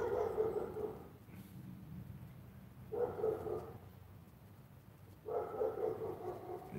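A puppy yelps and whimpers in three short bursts with pauses between them, close to the listener and moderately loud over a soft steady background hum.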